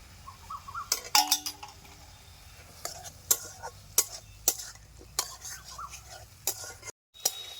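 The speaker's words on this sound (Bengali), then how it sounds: "সাজনা ডাঁটাগুলিকে আমি ভালো করে কষিয়ে নিয়েছি" Fried drumstick (moringa) pieces being sautéed in butter in a pan, heard as scattered clinks and scrapes of a utensil against the pan over a faint low sizzle, with a brief dropout near the end.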